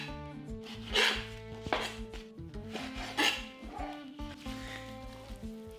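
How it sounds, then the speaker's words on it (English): A knife cutting beef into thin slices for shawarma on a board, giving several distinct scraping strokes spaced about a second apart over a quiet musical background. "With my knife, just go across and then cut this as thin as you can."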